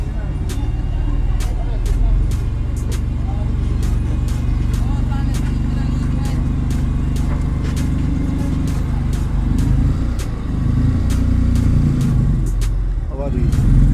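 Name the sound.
2011 Nissan Teana car driving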